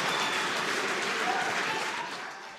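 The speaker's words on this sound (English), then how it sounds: "The crowd is about to go wild." A crowd applauds the first private spacewalk, a dense, steady wash of clapping that fades slightly at the end, with no talking.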